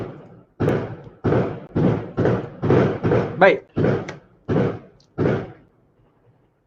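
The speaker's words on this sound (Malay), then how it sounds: "ada dengar bunyi mercun tak yang kuat-kuat ni? Perpong perpang" Loud firecrackers go off in a rapid series of about ten heavy bangs at a fairly even pace, each with a short decay, before the noise dies away.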